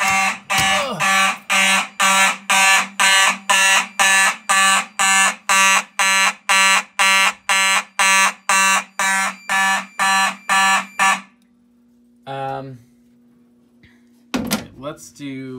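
A mechanical Simplex fire alarm horn in a home system test blares in rapid, evenly spaced pulses, loud and close, for about eleven seconds, then stops, followed by a short buzz and a few clunks.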